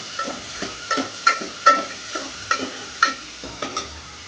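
Chopped tomato being sautéed in a spiced tadka for Maggi noodles: a spoon scrapes and stirs the pan in a steady rhythm of close, distinct strokes over a soft, continuous sizzle.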